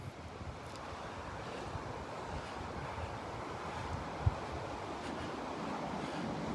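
Strong wind buffets the microphone over a constant wash of surf at Vanderbilt Beach at low tide, a loud, steady roar with no voices.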